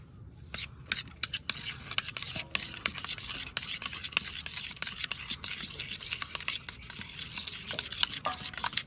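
Curd is beaten in a bowl together with kasuri methi and half a spoon of coriander-cumin powder, a continuous close scraping and tapping of a spoon, busy and uneven throughout with no talk.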